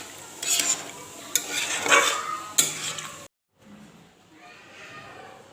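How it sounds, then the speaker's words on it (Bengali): Chicken potato curry with water being stirred in a pot at close range, a spoon scraping and clinking against the metal in several uneven bursts, then a brief pause before quieter, softer stirring resumes. "জল দিয়ে এবার একটু ভালো করে মিক্স করে দেবো।"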